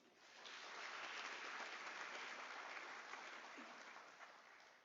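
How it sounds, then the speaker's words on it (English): Audience applause at a University of South Africa autumn graduation ceremony in 2025, a dense sustained clapping that builds quickly, holds steady for several seconds, then gently tapers off. "Let us give a round of applause."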